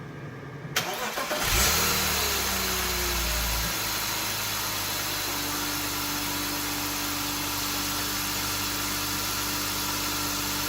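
A BMW E46 engine cranking briefly and catching, then settling into a steady idle hum, heard close by with no talking.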